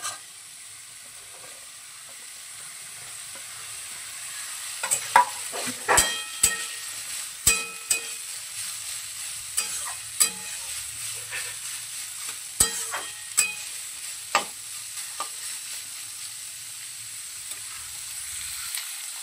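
Carrots and beans fry in a pan for vegetable pasta, a soft continuous sizzle broken by sharp clinks and scrapes of a spatula against the metal, irregular knocks recurring close by.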